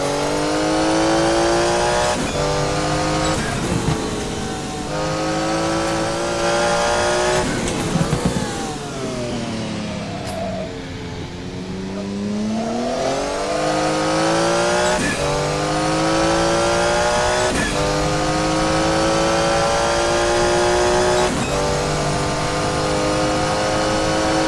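A virtual Porsche 956 Group C race car in a racing video game drives hard, its engine droning loud and steady with repeated rev rises and gear-shift dips, plus a long sweeping pitch dip mid-run.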